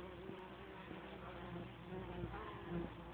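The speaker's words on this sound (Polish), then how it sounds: "Pszczółki ostro pracują." Honey bees in a two-week-old nucleus hive give a steady, close droning hum with layered buzzing tones, continuous and fairly even throughout.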